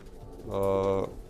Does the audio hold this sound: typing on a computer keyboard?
no